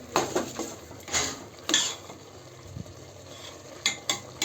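A spoon stirs sweet rice with masala and sugar in a metal pot, making a few close, sharp clanks and scrapes against the pot with quiet pauses between strokes.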